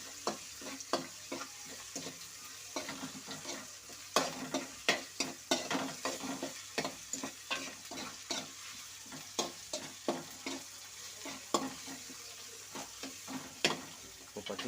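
Ginger garlic paste and onions sauté in a pan with a steady sizzle, broken up by frequent scraping and clicking strokes of a stirring spoon, close and moderately loud.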